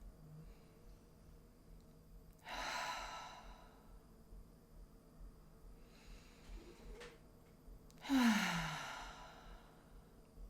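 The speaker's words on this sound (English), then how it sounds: "Inhale deeply and exhale fully with your mouth." A deep breath in and a full breath out through the mouth during a yoga class cool-down: two broad airy breath sounds a few seconds apart, close and moderately loud, with quiet stillness around them.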